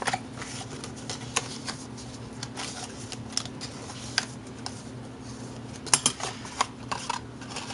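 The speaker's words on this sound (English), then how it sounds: "So at this point, I'm going to fold that triangle" Paper is being folded into a triangle for a tall craft box: sparse, crisp taps and creases in quick, irregular bursts, close and fairly quiet over a faint steady hum, with no talking.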